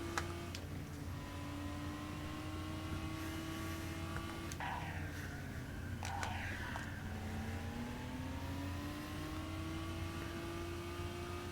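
A street racer car engine drives in a Unity-built racing game, a steady mid-pitched drone with gradual pitch rises and dips as it accelerates and drifts, continuous throughout with a few brief clicks.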